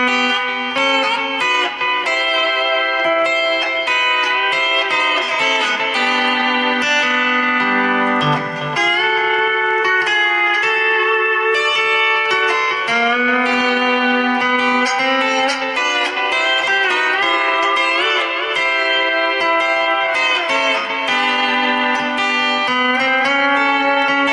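A lap steel guitar plays a continuous passage of sliding, harmonized notes using slant technique, bright and sustained, with no talking.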